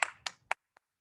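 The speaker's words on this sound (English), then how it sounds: "Give yourself a little mini round of applause." A few sparse, close hand claps, about four in a slow, fading sequence, after a home fitness workout, with nothing else heard around them.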